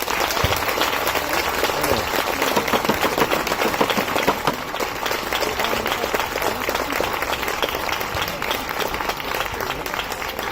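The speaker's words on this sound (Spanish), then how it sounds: "Te lo ganaste, amigo, este aplauso." Festival crowd applauding steadily and loudly throughout after an opening-day speech at a local fiesta in Roces, Gijón, Asturias, a dense continuous wash of clapping from an audience.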